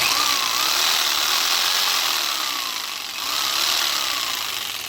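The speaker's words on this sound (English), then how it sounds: "Try the skill saw." A corded skill saw powered through an inverter installed in a 2017 Chevrolet Silverado whines loud and close, spinning steadily with a brief dip in pitch partway through before revving back up.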